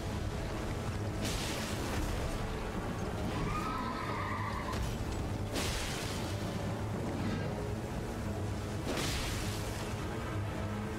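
Spectral horse of the Night's Cavalry in the Elden Ring video game gives a clear rising-and-falling whinny midway, amid hoof clip-clop, booming combat impacts and a continuous game soundscape.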